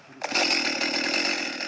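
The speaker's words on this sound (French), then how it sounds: "Rien n'est laissé au hasard avant de démarrer sa tronçonneuse." A chainsaw is started for felling coconut trees over 20 metres tall during lumberjack training. After a short quiet moment the engine catches and settles into a loud, steady, close buzzing whine.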